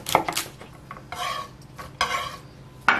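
A knife chops through washed garlic scapes on a cutting board in a few crisp, separate strokes, close and fairly loud, with short pauses between cuts and no talking.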